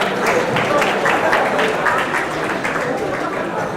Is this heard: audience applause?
yes